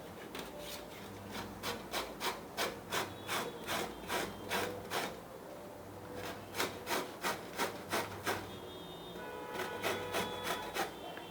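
Raw green mango being grated by hand to a medium shred, steady rhythmic rasping strokes in two bursts with a short pause between, close and moderately loud with no talking.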